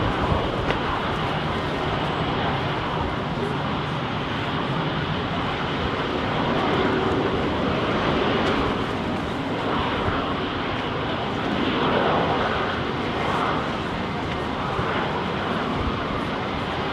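A fixed-wing airliner touches down on the southern runway at London Heathrow in windy weather, its engine roar loud and steady throughout, a broad sustained rumble with gusty wind noise and no talking.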